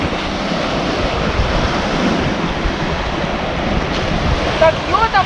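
Sea waves wash continuously onto the shore at Mahmutlar, Alanya, Turkey, a loud, dense surf roar with wind buffeting the microphone and a few faint higher tones near the end.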